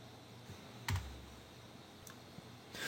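Keyboard shortcuts are typed on a computer keyboard while editing images, giving a few sparse, quiet key clicks with one sharper tap and brief pauses between presses.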